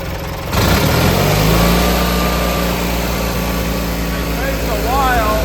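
An ARGO off-road vehicle engine starts up suddenly and revs high, holding a loud steady buzzing drone close by, with a rising whine near the end and a voice talking over it.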